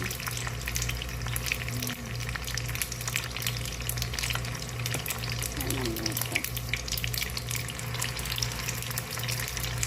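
Siomai fry in a pan with a dense, steady sizzle that stays loud and even throughout. A voice speaks now and then beneath the crackling oil.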